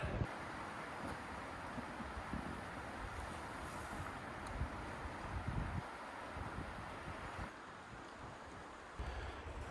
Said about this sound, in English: This wind is going to be exhausting.